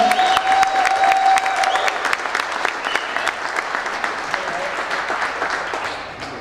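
An audience at a 2013 Miss Mayhem pageant gives a contestant a long burst of loud applause and clapping, fading gradually toward the end.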